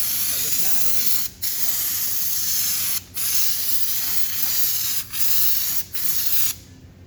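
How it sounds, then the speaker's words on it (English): An air-pressure spray gun applies rock guard coating to a vehicle's lower body in a test spray, giving a loud, steady close hiss broken by several brief pauses between passes. "So you just do a test spray first."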